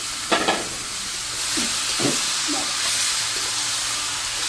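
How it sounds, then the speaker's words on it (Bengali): Duck meat drops into spice paste in a pan and fries, with a couple of quick stirring clatters near the start, followed by a steady hissing sizzle that keeps going to the end. "এখন দিয়ে দেবো মাংসগুলো।"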